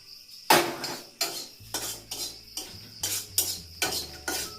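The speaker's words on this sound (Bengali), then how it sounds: "ওই যে লাল মরিচ বাজতাছি" Red chili peppers being fried in a pan, with a spoon or spatula scraping and clanking against the metal in a steady repeated rhythm, about eight strokes, over a faint sizzle.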